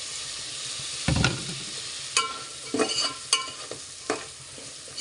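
Tomatoes and green chillies fry in ghee with pulao masala for chicken pulao, a constant close sizzle punctuated by several sharp spoon scrapes and splashy stirs against the pan.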